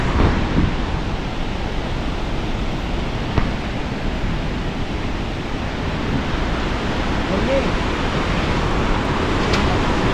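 Steady, broad rushing roar of the Mandakini River churning far below in a gorge, continuous and fairly loud with no breaks.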